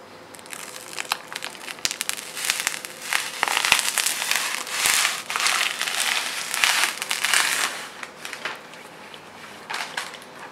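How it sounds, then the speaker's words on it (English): Protective plastic film being peeled off a CyberPowerPC Gamer Ultra desktop computer case, a close run of crinkling, crackling rips and sharp snaps over about ten seconds. "I'm going to peel this off."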